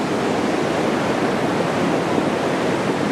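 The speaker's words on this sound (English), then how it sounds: "Oh, there goes some boulders. Hear them? It's moving, big rocks." Rain-swollen San Gabriel River in the San Gabriel Mountains, with big boulders rolling along the bed, heard as a steady, loud roar of rushing water that masks any distinct knocks of stone.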